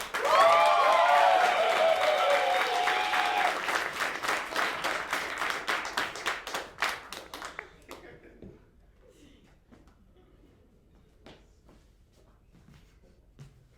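Improv comedy audience applauding and whooping, with a bright voice cheering loudly at the start; the clapping is dense at first, then thins into scattered claps and fades into quiet after about eight seconds.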